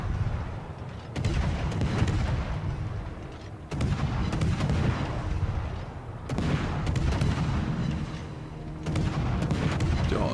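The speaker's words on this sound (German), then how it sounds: "Und unser Pet Pavlovs kann dem gleich richtig schön in die Seite schießen" Heavy warship gun salvos in the naval battle game World of Warships: four booming volleys about every two and a half seconds, each with a deep rumbling tail and no voices.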